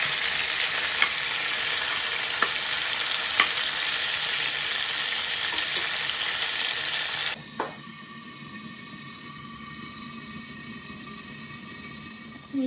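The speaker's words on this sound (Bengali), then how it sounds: "পটলটা ভাজা হয়ে গেলে আমি আলুটা ভাজা করব" Pointed gourd fries in hot oil with a loud, dense, close sizzle and a few soft stirring ticks. Partway through, the frying drops to a quieter, steadier hiss.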